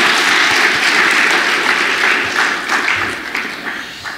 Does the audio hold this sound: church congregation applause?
yes